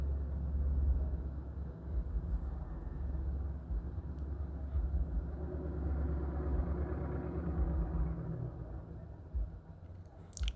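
A distant car engine rumbles low and steady outdoors, a sustained drone with slight swells rather than sharp revs, holding throughout at moderate loudness.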